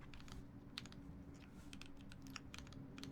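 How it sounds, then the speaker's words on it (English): Fingers typing on an unfamiliar computer keyboard, quick irregular clicks and taps close by and fairly quiet, with no talking. "Oh, I'm not used to this keyboard."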